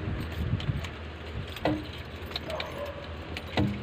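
A set of keys jingles and clinks in short bursts inside a vehicle on a road trip, the metallic rattles recurring at intervals over a low, steady engine rumble.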